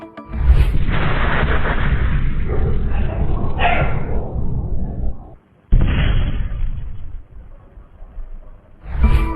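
A meteor bursts in the atmosphere before dawn over a capital city, its shock wave giving loud deep rumbling booms that roll on for seconds, break off abruptly, then rumble again, with a dog barking faintly.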